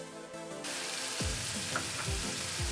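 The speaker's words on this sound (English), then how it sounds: "Now I'm going to go ahead and add my mushrooms." Mushrooms dropped into a frying pan with vegan butter, ginger and garlic, a loud constant sizzle that swells suddenly as they go in, with a few soft low thumps and stirs under it.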